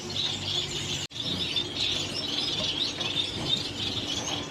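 Japanese society finches in a breeder's aviary chirp continuously, a dense chorus of bright, high tweets at moderate level, with one brief gap near the start.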